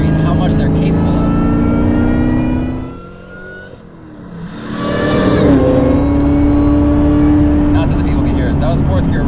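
A 2003 Ford Mustang Cobra track car, 390 horsepower, doing a fourth-gear roll-on, its engine note droning loud, fading briefly, then surging back into a rising hard pull; talking is heard alongside.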